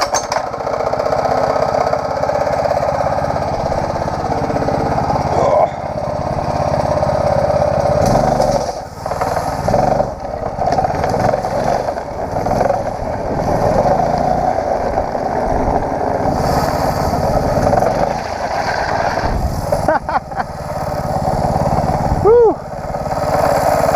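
Drift trike with a 6.5 engine running steadily nearby, its rough motor drone rising and falling with throttle, with a voice talking over it at times.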